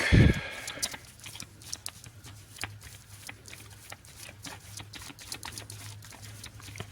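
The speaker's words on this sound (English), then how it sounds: "Shuffle my deck." A deck of Legendary Marvel game cards is shuffled close up, a rapid patter of riffling card edges that starts with a louder burst and carries on steadily.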